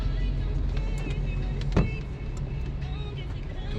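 Inside a car creeping through a traffic jam in Penang, a low steady engine and road rumble continues with a brief bump partway through, fairly quiet and without talk.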